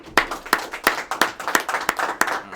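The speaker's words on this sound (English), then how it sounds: "Let's give him a round of applause." Rhythmic hand clapping, about eight evenly spaced claps in under three seconds, close and moderately loud, sounding like a single person or a small group rather than broad applause.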